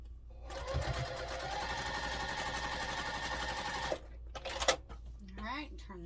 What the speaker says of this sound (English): Okay, so let's sew the sides onto the center first.